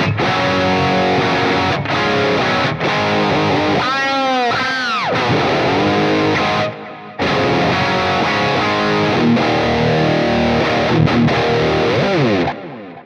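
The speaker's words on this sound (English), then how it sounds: "Now down here, I'm going to add some reverb. I'm going to go with a hall verb." Crunchy, distorted rock electric guitar chords and bends through a Quad Cortex amp modeler ring out with a spacious hall reverb tail, loud and continuous with a brief drop near the middle.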